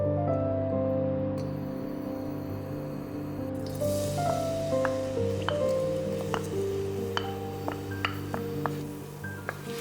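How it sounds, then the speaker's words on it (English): Garlic frying in oil over medium-low heat, a steady soft sizzle with scattered small crackles and pops that thicken in the second half, under continuous background music. "Let's prepare crispy fried garlic, another topping and ingredient for the broth. Fry on medium-low heat."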